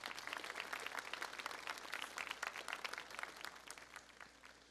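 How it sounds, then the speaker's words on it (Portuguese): A church congregation at a Portuguese-language service applauds in a steady, dense patter of many hands, faint and distant throughout the few seconds. "Vamos aplaudir Jesus, irmãos."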